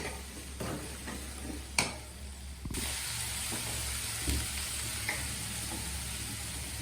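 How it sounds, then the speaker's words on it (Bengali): Ginger and spices sizzle steadily in hot oil while being sautéed for a loitta dried fish curry, with a continuous frying hiss, occasional spoon clinks and stirring scrapes. "দিয়ে দিচ্ছি আদা সব কটা মশলা আবার ভালো করে কষিয়ে নেবো"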